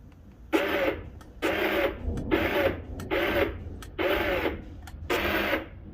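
Electric drive motor of a kid's Yamaha Raptor 700R ride-on ATV switched on and off by its foot pedal: six evenly spaced short bursts of gritty whirring gear noise, close and loud, with brief pauses between.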